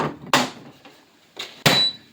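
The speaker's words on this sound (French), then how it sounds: "Désolée pour le bruit du tiroir." An indoor drawer is pulled and pushed, giving two sharp scraping clunks with a softer rattle between them. A faint squeak trails the final bump, and no one speaks.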